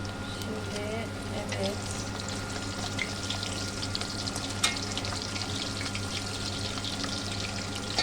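Steady frying crackle of hamburger patties in a pan, continuous and fairly close, with a low hum underneath and no talking.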